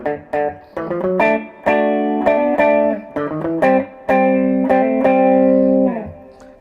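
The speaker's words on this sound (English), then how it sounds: "so that's got a beautiful reverb on that." Les Paul electric guitar through a Carvin Vintage amp playing a melodic phrase of plucked notes and chords, with a lush reverb tail ringing after each note, loud and close.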